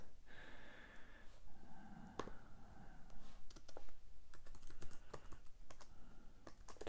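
Fast keystrokes on a computer keyboard while notes are typed, a steady run of light clicks close by with quiet breathing, no talk.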